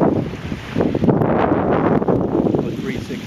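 Strong wind buffets the microphone outdoors on a 75-degree day near water, a loud continuous roar with gusty surges and no clear talk.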